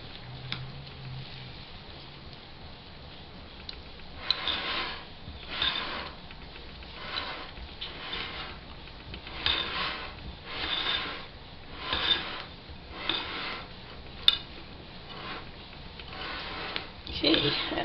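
A spoon mixes Boston brown bread batter with raisins in a bowl, making soft, rhythmic scraping and rubbing strokes that repeat about once a second, close and fairly quiet throughout.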